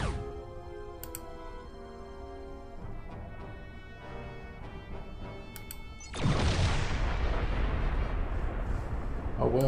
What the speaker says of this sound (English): A well-placed photon torpedo makes short work of you and your friends.